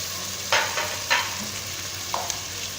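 Goat trotters go into frying ginger garlic paste, and the pan gives a steady sizzle with a few sharp scraping stirs, no voices.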